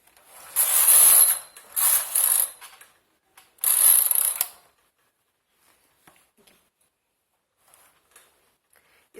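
A knitting machine carriage sweeps across the bed knitting a jali lace pattern, with three loud rasping, ratcheting passes close by followed by a few faint clicks and near silence.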